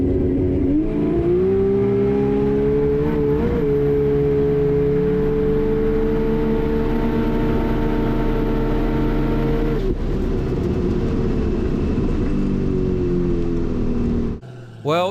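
Drag racing cars, one of them a Lamborghini, launch and accelerate hard in a tuner drag battle shootout, a loud sustained engine roar climbing in pitch, easing near ten seconds, then pulling on before cutting off at the end.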